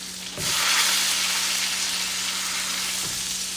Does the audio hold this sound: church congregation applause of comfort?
no